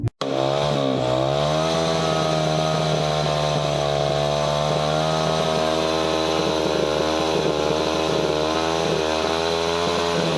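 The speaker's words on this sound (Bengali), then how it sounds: "উচ্চ ক্ষমতা সম্পন্ন সাইলেন্সার লাগানো মোটর বাইকের দাপট" A motorcycle fitted with a loud, high-power aftermarket silencer revs during a police drive in Kalyani, giving a steady, piercing, high-pitched engine drone that holds strong and close for about ten seconds, with no talking.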